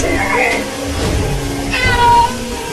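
A cartoon cat in a Hindi Diwali comedy meows several times in quick succession, loud and close, while a voice talks over it.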